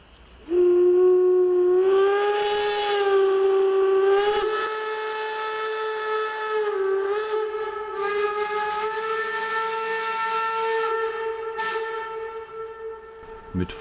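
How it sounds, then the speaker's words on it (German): A steam whistle blows one long, loud, steady tone for over ten seconds, with hissing bursts of steam, as steam locomotives depart a station with their cylinder cocks fully open. "Mit voll geöffneten Zylinderhähnen fahren die Dampfloks jetzt ab."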